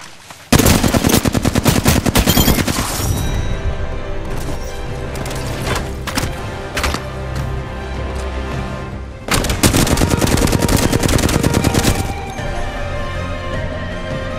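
Automatic gunfire from the video game Apex Legends rattles in long, dense bursts, loud and close, with short pauses between volleys and no talk over it.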